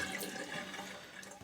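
During a wet shave with a Muhle R107 razor, a faucet runs briefly, giving a soft, steady splashing hiss that stays faint and constant for about a second and a half.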